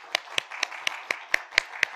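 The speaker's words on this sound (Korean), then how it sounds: "여러분 인사할 때 다시 크게 박수해 주시기 바랍니다." A church congregation at a Sunday service claps in steady unison, eight sharp, evenly spaced claps in about two seconds, crisp and fairly close.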